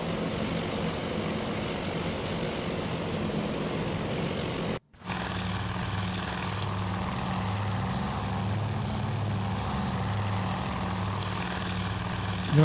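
Douglas Dauntless dive bombers in the Task Force Admiral naval game drone with a continuous propeller engine roar. After a brief cut, steady pulsing engine tones continue, loud and alone, with no talking.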